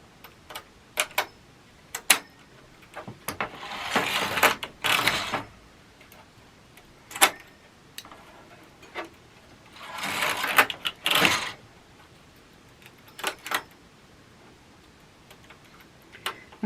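A knitting machine works wire in irregular bursts: sharp mechanical ticks and clicks scattered throughout, with two longer swishing carriage passes, close and moderately loud.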